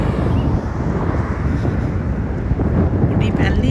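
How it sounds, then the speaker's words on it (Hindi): A light wind blows outdoors, a steady low rumble of wind buffeting the microphone that lasts the whole stretch with no break. "थोड़ी सी हवा चल रही है।"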